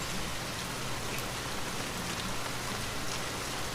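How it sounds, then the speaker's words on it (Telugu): Heavy rain pours down in a dense, unbroken hiss that stays loud and even throughout, with no voices. "వర్షం చాలా పెద్దగా పడుతుంది"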